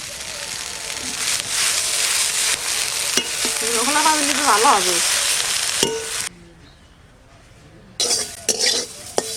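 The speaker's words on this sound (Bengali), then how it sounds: "শুকনো খোলায় নিম পাতাগুলো ভেজে নেব" Neem leaves dry-fry in a pan with no oil while a spatula stirs them, producing a close, continuous crackling sizzle with scraping strokes. A voice speaks briefly over it.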